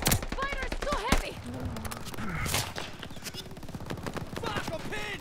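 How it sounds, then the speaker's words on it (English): Heavy gunfire in the Call of Duty: Vanguard video game: dense, rapid automatic bursts rattling without pause across the whole stretch, mixed with shouting voices and battle noise. "Fire is so heavy!"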